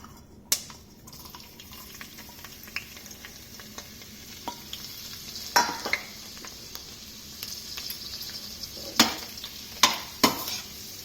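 Finely chopped garlic sizzles in a heated pan for onion pepper chicken: a steady close frying hiss broken by scattered clicks and scrapes of stirring, with no talking.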